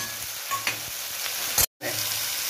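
Pointed gourd (parwal) frying in a pan with kasuri methi, garam masala and a little sugar, a steady close sizzle with stirring scrapes, briefly cut by a silent gap before the sizzle resumes.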